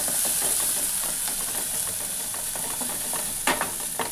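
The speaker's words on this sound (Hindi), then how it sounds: "पहले गाजर डालेंगे, फिर बीन्स डालेंगे, फिर इसे भी हम 1 सेकंड के लिए शॉटे कर" Carrots and beans stir-fry in a hot pan for a puff pizza filling, giving a loud continuous sizzle and hiss with a few scraping stirs and one sharper clack near the end.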